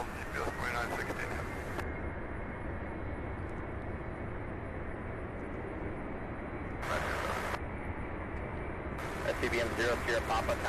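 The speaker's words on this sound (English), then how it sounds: "All right, this MD-11 off to Oakland, California, UPS flight" A UPS MD-11 cargo jet takes off bound for Oakland, California, at Louisville's UPS Worldport, giving a loud, steady broadband roar throughout, with brief bursts of radio chatter partway through and near the end.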